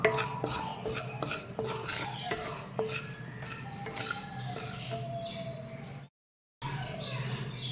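Fenugreek seeds dry-roasting in a pan, with repeated scraping, clinking stirs of a utensil against the metal over a low steady sizzle, continuing for several seconds before a brief pause.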